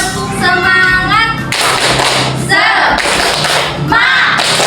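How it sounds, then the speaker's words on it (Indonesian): Children in a classroom do a rhythmic spirit clap: loud, patterned bursts of hand claps alternating with voices chanting in unison. "Ayo kita tepuk semangat dulu ya."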